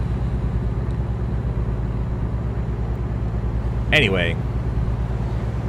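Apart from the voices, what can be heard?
loud truck engine in American Truck Simulator video game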